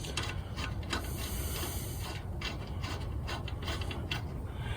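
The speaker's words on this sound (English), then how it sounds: "So now we'll take this capsule nut off." Ratchet loosening the axle nut on a 1997 Honda Civic, a fast continuous clicking that runs steadily and close for several seconds with no talking.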